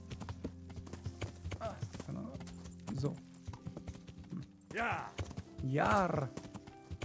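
Horse hooves clip-clop at a riding pace in the medieval video game Kingdom Come, joined by a whinny near the end, while someone talks and urges the horse on.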